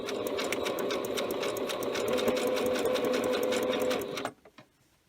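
A sewing machine stitches bias tape onto a face mask in a fast, even, close mechanical rattle that runs for about four seconds, then cuts off into a few faint clicks.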